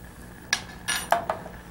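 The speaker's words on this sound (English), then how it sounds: "Let's give it a stir, make sure it doesn't stick on the bottom" Coconut milk heated to a boil is stirred in a pot, four distinct metallic clinks and scrapes of a utensil against the pot's sides and bottom, close and clear with no speech.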